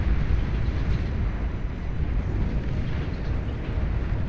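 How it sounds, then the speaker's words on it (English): A massive explosion in the strategy game Beyond All Reason, heard as a loud, dense, sustained roaring rumble with no clear break, filling the whole stretch without any talk. "The explosion is still pretty intense, but very beautiful."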